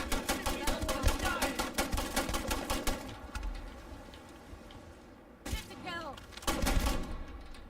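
Gunfire in the video game Starfield: rapid rhythmic bursts of automatic shots for about three seconds, then quieter background, then two more short bursts of fire.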